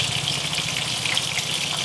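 Water is poured into a mixer jar still coated with ground masala paste while cooking a home meat feast, giving a steady, close splashing rush that lasts about two seconds without a break.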